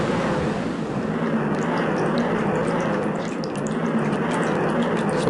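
Continuous rushing, gurgling water drains away in the Water Temple of Zelda: Ocarina of Time, a steady wash with faint dripping and trickling detail layered on top, no speech.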